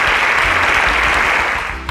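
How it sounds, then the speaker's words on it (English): Loud, dense applause from a crowd, clapping steadily and then tapering slightly at the end. "A round of applause for Isoke."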